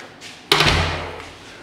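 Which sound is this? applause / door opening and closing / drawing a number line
door opening and closing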